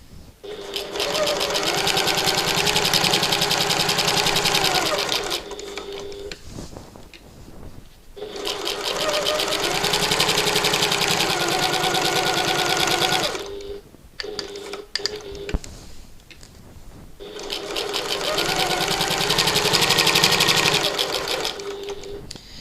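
A sewing machine stitches around the front panel of a button lock bag in three long, even runs of rapid mechanical whirring, separated by short pauses, close and loud.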